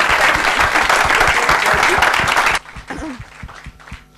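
Lecture audience at a physics talk on the quantum adiabatic algorithm claps loudly and densely for about two and a half seconds, then stops abruptly, leaving quieter room sounds and a brief voice.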